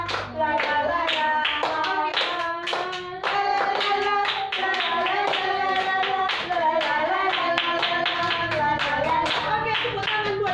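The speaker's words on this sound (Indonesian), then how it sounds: "Oke, tepuk tangan buat kita semuanya." Children clap their hands in a steady, rhythmic beat while singing a cheerful sing-along over it in a classroom, the claps sharp and evenly spaced throughout.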